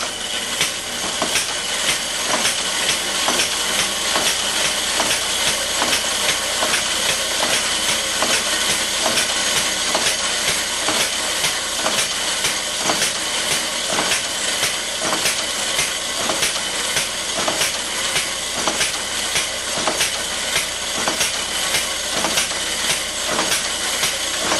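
A boot testing machine runs at full speed, giving off a dense, steady mechanical clatter with a hissing wash and a rapid, even clicking rhythm throughout, close and loud, with no voices.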